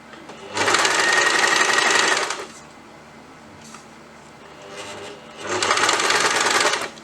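An electric sewing machine stitches a tulip sleeve, two loud, close bursts of rapid whirring, each about two seconds long, with a quieter pause of handling noise between them.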